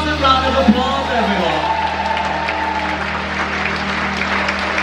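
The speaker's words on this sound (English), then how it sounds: "Give yourself a massive round of applause" A theatre audience at a Take That tribute show at Nottingham Theatre Royal applauds loudly, dense sustained clapping with whoops and cheers throughout while a voice calls out over the crowd.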